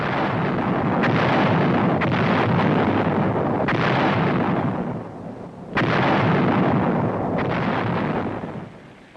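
Heavy US artillery guns firing in combat, several loud deep booms spaced a second or two apart, each followed by a long rumbling roar that dies away before the next shot.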